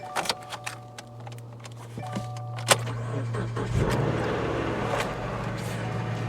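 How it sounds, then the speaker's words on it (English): An Infiniti G37xS at a Copart salvage auction yard starts on the key: a brief starter crank, then the engine catches and settles into a steady idle hum, with a few clicks and clatter around it. "Fired right up."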